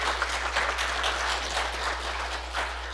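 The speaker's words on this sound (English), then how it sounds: "If you want to give her a round of applause" An audience at a hearing loss association meeting claps in a moderate, fairly even patter that carries on for a few seconds, with a low steady hum running underneath and no speech over it.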